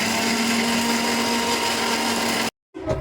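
A blender grinds cumin, coriander, ginger and mustard seeds with water into a spice paste, giving a loud, steady motor whir that stops abruptly after about two and a half seconds, then restarts briefly.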